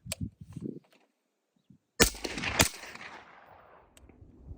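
A single .30 caliber rifle shot through a Surefire SOCOM300 suppressor, a sharp, loud crack with a second quick report and a fading tail, preceded by faint low rustling and followed by quiet.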